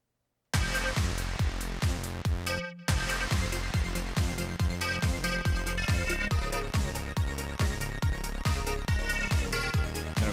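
Full electronic song mix plays after a brief silence, with a steady four-on-the-floor style kick pulse, layered snare and clap hits from a drum rack, and dense synth layers running loud and continuous to the end.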